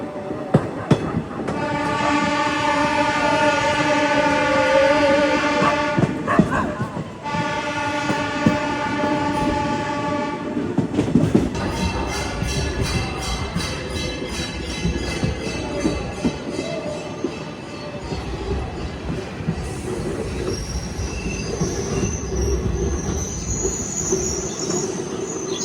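The Frontier Mail passenger train on the Amritsar route rolls along with loud, steady rumble and clickety-clack, and long sustained wheel squeals grind against the rails for several seconds, heard from inside.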